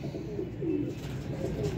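Pigeons kept for sale in a setup coo in soft, rolling phrases, a couple of low throaty calls standing out over a quiet background.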